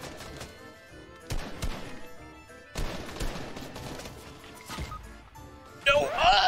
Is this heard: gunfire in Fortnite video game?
yes